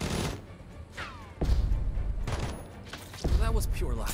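Gunfire in the tactical video game Jagged Alliance 3, with a few sharp shot bursts rising over background game ambience, voices and speech mixed in between.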